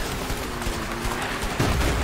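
Mortar bombardment in the video game A Way Out, a dense rumbling wash of distant blasts and scattered gunfire, with a heavier impact swelling near the end.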